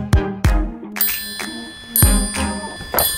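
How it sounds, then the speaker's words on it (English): A bell rings in a quick ringing pattern of sharp, repeated dings, loud and close, with no talking. "Somebody's at the doorbell."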